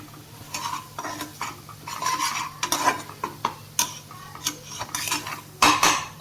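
Spoon scrapes and clinks against a pan while masala for a rassa curry is sautéed, with a light sizzle underneath; irregular stirring strokes, close and fairly loud, with no talking.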